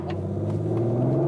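An Audi RS5 engine hums steadily while driving uphill, a low, sustained droning rumble heard from inside the car without talk.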